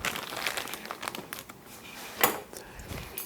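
A plastic bag holding metal tie bars for a shop jig is handled and torn open, giving close, loud crinkling and rustling with a sharper tearing burst near the end.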